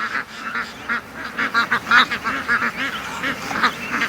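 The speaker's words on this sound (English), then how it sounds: "The geese are going at it, but the ducks are not that interested." A flock of geese honking in a rapid, overlapping chorus at close range on a cut grass lawn, with ducks among them; the calls come in dense repeated bursts with no talking.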